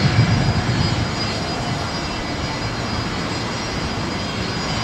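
A Qantas airliner departing Brisbane Airport, bound for Norfolk Island, gives a steady, loud broadband engine roar that holds constant throughout, with no talking.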